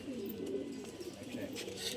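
A pair of pigeons coo softly in a steady low murmur, faint and continuous, heard close at hand in a home in old Dhaka.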